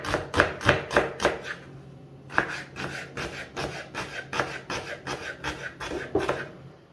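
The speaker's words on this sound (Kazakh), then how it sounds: "Пиязды майдалап, жіңішкелеп турап шығамын." A knife chops onion finely into thin slices on a board, quick bursts of steady rhythmic strokes, close and clear, with a short pause before the cutting resumes.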